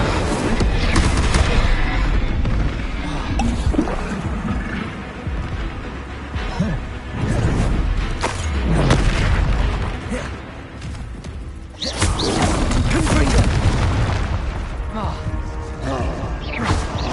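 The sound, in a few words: spell casting (Incendio) in Hogwarts Legacy video game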